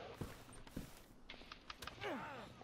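A door creaks open in the video game DayZ, a short, faint, drawn-out groan with a few soft knocks and footfalls before it.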